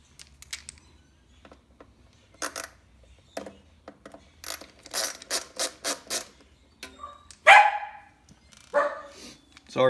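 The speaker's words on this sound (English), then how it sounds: "Sorry for the dogs." Several dogs bark in repeated bursts, some quick runs of barks and a louder yelp, fairly close, with quiet background noise between.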